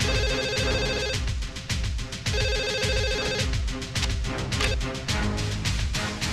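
A home telephone rings in a Hindi film scene, its electronic ring repeating in bursts over loud, dense background music and crashing sounds.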